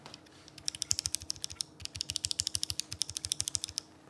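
Steady mechanical keyboard typing on Kailh V2 switches in a Keychron Q2 or Ducky One 3, with quick, evenly spaced clacky keystrokes, close and fairly quiet, with no voices.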